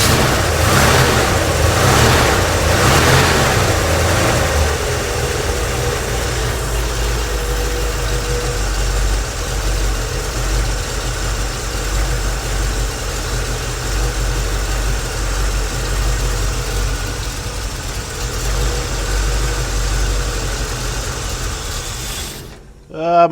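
A Chevy II car engine keeps cranking and sputtering as it tries to start, a loud, sustained rumbling churn close by that cuts off abruptly at the end.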